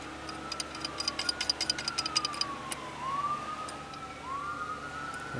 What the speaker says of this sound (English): That's a double ambulance.